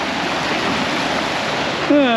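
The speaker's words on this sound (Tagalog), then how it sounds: "Ang lakas ng agos." A strong river current rushes in a loud, steady broadband wash close by, and a voice cuts in briefly near the end.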